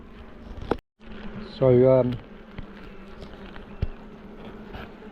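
Honey bees hum around an open hive holding fresh brood and purple pollen, a steady, close, calm drone that carries on under a few brief words from a person.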